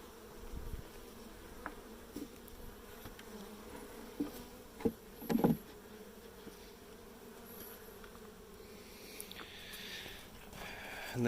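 Honeybees buzzing in flight around an opened hive outdoors, a faint steady hum with a few louder passes close by, no talking.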